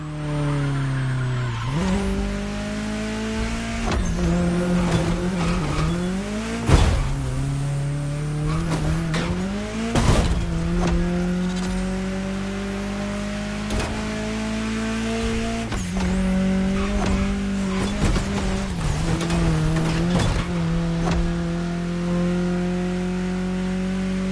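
Racing game car engine from The Crew Motorfest, driving through a state capital town: a steady loud engine drone with repeated gear shifts and rising revs, occasional thumps and tire squeals, no talk.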